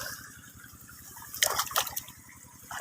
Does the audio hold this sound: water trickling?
yes